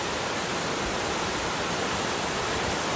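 The Mata de Plátano river in Jarabacoa, Dominican Republic, rushing steadily as a dense, unbroken roar of flowing water, close and loud with no talk over it.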